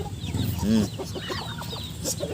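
Pet chickens cluck and murmur as they feed in a backyard, one louder rooster-like call rising briefly amid softer scattered clucks close by.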